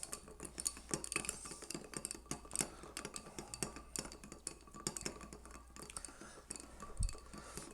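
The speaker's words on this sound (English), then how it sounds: "And so now you give it a stir." Ice clinks and ticks quietly against glass as a bar spoon stirs an Old Fashioned riff with Falernum, allspice and orange and Angostura bitters, a continuous soft rattle with a few sharper knocks.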